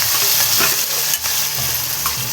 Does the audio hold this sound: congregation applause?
no